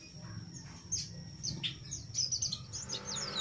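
Japanese white-eye (pleci) chirps in short, bright bursts, several quick calls clustered midway and near the end, fairly close over a low steady background hum.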